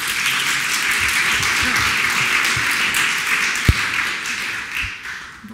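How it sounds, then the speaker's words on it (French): An audience at a scientific day event bursts into steady applause, a dense continuous clatter of many hands heard fairly close, with one sharp thump partway through before the clapping tapers off. "Sous vos applaudissements."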